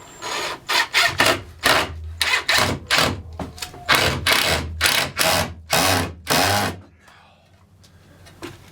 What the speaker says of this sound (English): So we've got our 1 1/4 drywall screws, and we're putting them up